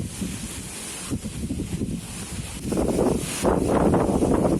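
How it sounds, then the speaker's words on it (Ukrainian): Strong, gusty wind blows outdoors at a dacha, roaring against the microphone in uneven surges that grow louder toward the end, with no voices. "Вітер сьогодні страшний"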